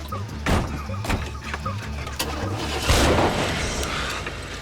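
A car engine cranks and catches amid background clatter, with a brief rise in engine noise toward the end, heard at moderate distance without speech.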